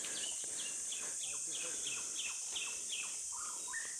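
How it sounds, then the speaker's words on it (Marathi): Birds singing in a forest during a kokum-gathering trip, with a rapid series of high, repeated chirps over a steady insect-like background hum, moderately distant. "पक्ष्यांचा आवाज एकदम मस्त मधुर आवाज येतो"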